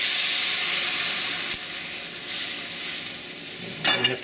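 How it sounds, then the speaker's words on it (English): Hot pan of browned lamb bits on an electric burner being deglazed for stock, a loud steady sizzle and steam hiss that dips, swells again and flares briefly near the end, with no talking. "we're going to deglaze this pan"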